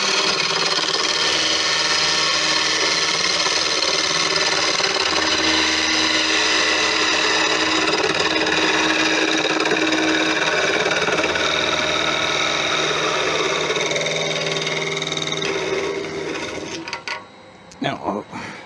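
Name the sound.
wood lathe cutting off a turned wooden angel piece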